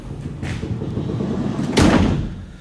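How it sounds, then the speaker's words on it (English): A sliding side door on a 2021 LDV G10+ van rolls along its track, then shuts with one loud, close thud and rattle near the end, over a low steady background hum. "they still come with the dual sliding doors"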